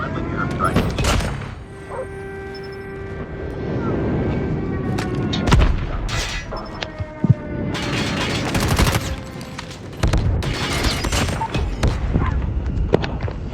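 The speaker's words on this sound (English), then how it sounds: "Friendly airstrike inbound." Airstrike explosions boom and rumble in COD Mobile multiplayer, with repeated heavy blasts and gunfire crackling over several seconds under game voice lines and a player talking.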